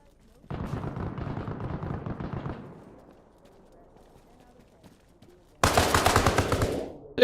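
Pistol fire in Arma Reforger, a jungle combat game: a rapid burst of shots for about two seconds, a quieter stretch, then another loud volley of shots near the end, close and sharp.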